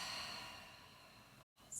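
A slow, steady exhale during a heart-opening yin yoga session, soft and close, tapering over more than a second before a brief silence and a short intake of breath.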